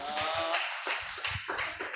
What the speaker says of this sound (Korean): 우리 환영하는 마음으로 박수하면서 우리 강사님 모시겠습니다